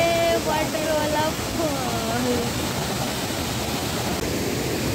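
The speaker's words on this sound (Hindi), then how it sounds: "हम लोग वाटरफॉल के वहाँ पे पहुँच गए।" Paglajhora waterfall near Siliguri pours in a steady, dense rushing roar that fills the whole clip, with people talking faintly over the cascading water.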